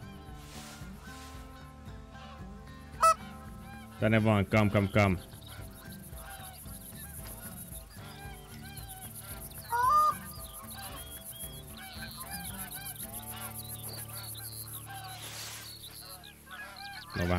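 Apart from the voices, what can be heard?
geese honking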